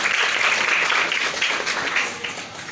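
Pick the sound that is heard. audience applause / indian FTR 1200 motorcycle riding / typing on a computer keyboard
audience applause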